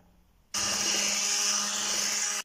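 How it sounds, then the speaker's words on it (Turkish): An electric blender whips a package of whipped cream powder into milk pudding for a kadayıf dessert, with a loud, steady whirring motor that starts abruptly about half a second in and runs without pause until cutting off at the end. "Ve blenderla bir güzel çırpalım."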